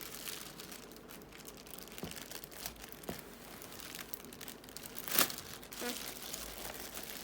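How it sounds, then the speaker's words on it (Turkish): Plastic wrapping crinkles and rustles softly as a Roborock S5 Max robot vacuum is unwrapped, with scattered faint crackles and one sharper crunch partway through. "Evet robotumuzu naylonundan çıkaracağız."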